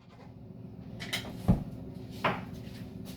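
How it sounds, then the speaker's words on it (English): A door being shut indoors, two soft wooden thuds about a second apart over a quiet room background. "Please close the door!"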